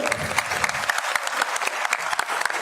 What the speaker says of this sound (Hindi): जोरदार तालियां हमारे अध्यक्ष जी के लिए